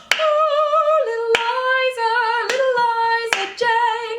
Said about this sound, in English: And then you clap again in order to reset.